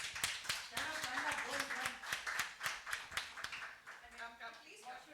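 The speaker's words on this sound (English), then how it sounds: "Please welcome them on the stage with a huge round of applause" Audience applause fills the room at a stage event, dense rapid clapping from many hands sustained throughout, fairly loud and close, with a brief dip before picking up again.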